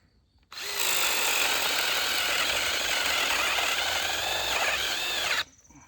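An old cordless drill runs at speed 2, boring down into a hole on an 8 amp hour battery, a steady loud whine that starts abruptly, holds for about five seconds with slight pitch dips near the end, then cuts off.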